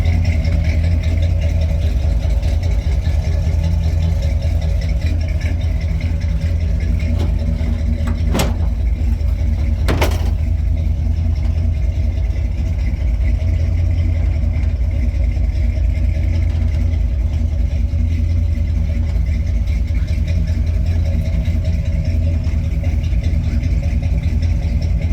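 A 1974 Ford Ranger XLT pickup with a Holley 4-barrel carburetor idles steadily up close, a low, even engine rumble throughout with two brief sharp clicks partway through.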